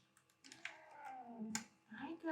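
A cat meows in a long wavering, drawn-out call, quiet and nearby, followed by a shorter second meow, with light keyboard clicks beneath.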